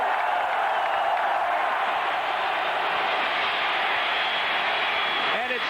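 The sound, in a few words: Arkansas football stadium crowd roaring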